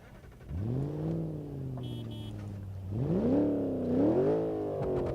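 A Civetta Bolide 320 sports car engine in BeamNG.drive hums steadily, then revs up and down twice, rising and falling in pitch, heard close with no talking.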